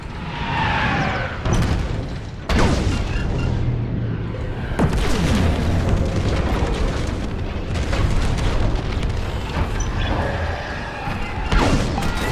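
Laser cannon fire and explosions sound through a Star Wars Squadrons space battle, with repeated booming blasts, sharp bursts of weapon fire and roaring impacts filling the clip at high volume.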